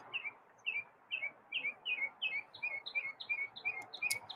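Chirpy, a video game bird, chirping in a quick series of bright, short two-note tweets, evenly spaced and repeated about a dozen times, fairly quiet and alone.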